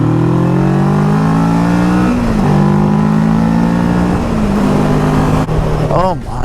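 A Kawasaki Versys 650 motorcycle rides on the road, its engine droning loud and steady with pitch shifts as it changes speed, wind noise heavy throughout.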